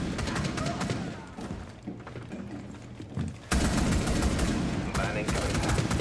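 Heavy, rapid shotgun fire in the tactical shooter Rainbow Six Siege, dense repeated blasts that dip briefly midway and then return louder, with someone talking underneath.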